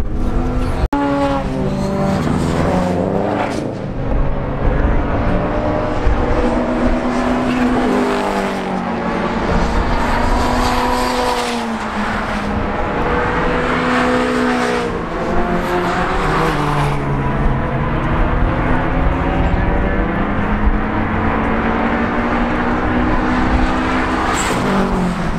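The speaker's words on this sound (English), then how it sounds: "This is normal half-hour sessions with Japanese cars." Japanese cars lapping a race track during a Japfest session, engines droning and rising and falling in pitch as they accelerate, shift and pass, with a continuous loud roar of several cars at once.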